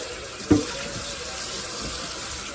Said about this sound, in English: I gotta fill my bedroom cat's water bowl up